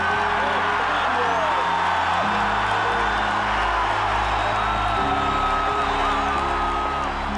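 A large stadium crowd at Kinnick Stadium, home of the Iowa Hawkeyes, roars and whoops in a steady, dense wall of cheering from start to finish, loud and continuous, with scattered yells rising above it.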